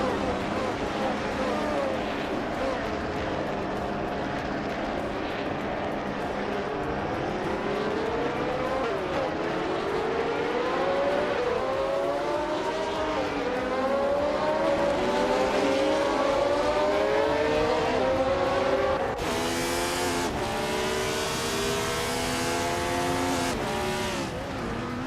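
Race cars in a racing video game roar continuously as they overtake one another, their engine notes rising and falling through gear changes over a steady loud drone, with a sharper high whine joining near the end.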